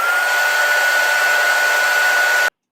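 A handheld heat tool blows steadily to set freshly stamped ink, giving a constant whooshing airflow with a thin whine running through it. It runs alone at even loudness, then cuts off abruptly.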